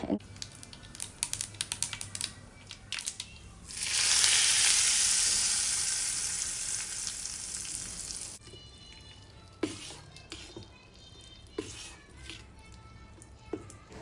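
Tempering sizzling loudly in hot oil for peanut chutney, a steady bright hiss that swells suddenly, holds for about four seconds and then fades, with scattered kitchen clicks and taps before and after.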